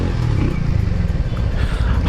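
Harley-Davidson X440 motorcycle cruising in fifth gear at around 40: a steady, loud, low engine drone mixed with rushing wind noise, with no pauses.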